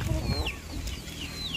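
Egg-laying hens cluck and squawk close by in short, uneven calls over a low farmyard background.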